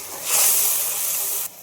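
Spices and ginger paste hitting hot oil in a pan, a sudden loud sizzling hiss that swells quickly and holds steady for about a second before cutting off, heard alone.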